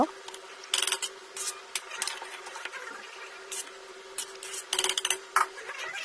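A spoon scrapes and rasps against a pot as beef bhuna khichuri is stirred and turned over, in irregular short strokes over a faint steady background hum.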